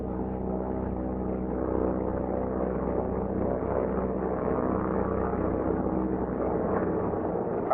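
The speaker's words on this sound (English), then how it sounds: "push the feathering button and hold until the prop windmills to between 600 and" A C-47 aircraft's propeller windmills with a steady, droning engine and airframe hum, continuous and muffled, with no distinct change across the stretch.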